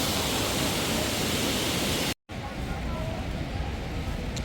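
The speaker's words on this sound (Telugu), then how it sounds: "హెవీ వాటర్ ఫాల్, వర్షం." A heavy waterfall and rain roar on the Kedarnath trek as a loud, dense wash of noise, cut by a momentary silence, then continuing somewhat softer with faint voices beneath.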